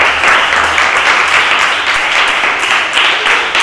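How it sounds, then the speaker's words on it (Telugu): Children in a classroom language game clap together, loud, dense and continuous applause close by from start to finish. "అందరికి ఒకసారి చప్పట్లు కొట్టండి"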